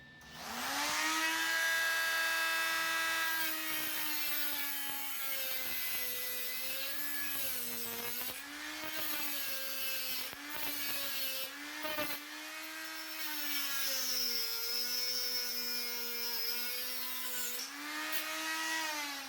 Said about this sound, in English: it's an adapter, so I can use the leftover cutoff wheels that get worn out and adapt it to this thing